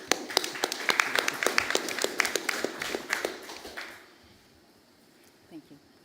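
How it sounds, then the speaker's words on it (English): Audience applause at a climate law conference greets a speaker invited to the lectern, a burst of many overlapping claps that stays lively for a few seconds, then quickly dies away into near silence. "Under your applause"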